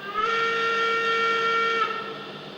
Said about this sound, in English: It whistles, you can hear the steam escaping